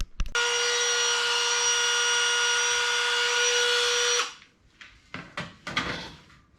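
A battery Dremel rotary tool cuts car body metal on a Holden HT Monaro build, giving a steady high-pitched whine for about four seconds. After it stops, close clattering handling noises follow.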